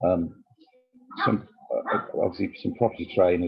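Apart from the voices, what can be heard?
dogs barking in the background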